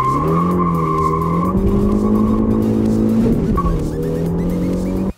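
Hot hatch car launching hard on a track lap, engine revving loud and steady with tires squealing and skidding throughout, close and continuous with no talk.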